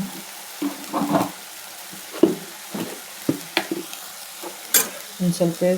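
Spices such as coriander frying in a pan for rasam, stirred all the while: soft sizzling under irregular scraping and clattering strokes of a spoon, moderately close.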